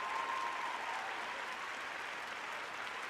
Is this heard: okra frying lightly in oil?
no